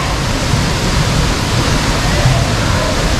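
A waterfall roars with a loud, steady, unbroken rush of falling water, dense and close, filling the air without pause.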